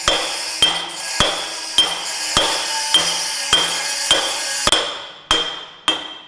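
Heavy hammer blows land on a tight bearing being driven into a trailer suspension at a steady pace, each leaving a ringing clang, roughly eleven strikes close up.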